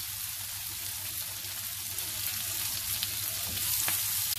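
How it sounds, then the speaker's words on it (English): Stuffed brinjals sautéing in a pan, a soft continuous sizzle and crackle of oil held at low, even volume with no talking. "we'll slowly be sauteing them till the brinjal also turns golden"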